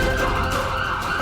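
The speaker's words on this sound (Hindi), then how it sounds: "ये एम्बुलेंस की आवाज" An ambulance siren wails in a steady, continuous tone, loud and close, with no talk over it.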